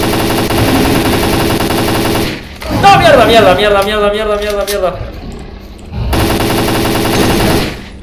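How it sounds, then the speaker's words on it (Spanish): Rapid automatic gunfire rattles through a firefight in the shooter game S.T.A.L.K.E.R.: Clear Sky, loud sustained bursts that break off briefly and resume, while someone shouts in panic over the shots. "¡Para, hermano! ¡Te estoy cagando balazo!"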